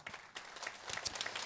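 Brief burst of audience applause at an Atomy Malaysia company presentation, a short uneven patter of clapping that swells slightly toward the end, fairly distant and muted.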